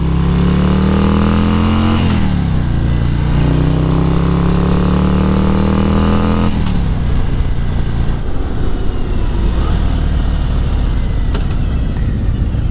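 A 2019 Harley-Davidson CVO Road Glide's V-twin engine on the move, loud and close, its drone rising through the gears with pitch climbing and dropping at shifts, then settling into a rougher, steady rumble at speed.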